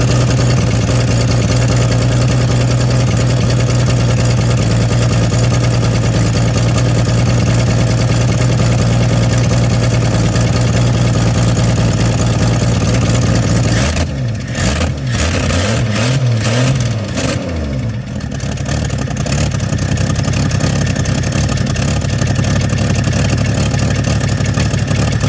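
A 1974 AMC Hornet engine with a bad exhaust leak idles loud and rough with a steady low throb, then revs in a few sharp bursts midway before settling back to a lumpy idle, close up.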